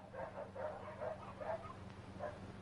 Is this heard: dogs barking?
yes